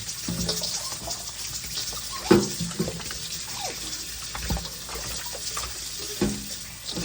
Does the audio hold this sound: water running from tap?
yes